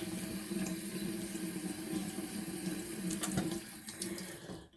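Water runs steadily from a tap into a sink while a face is wetted before shaving, a close, even splashing rush with a few brief spatters, continuing without pause until it cuts off at the end.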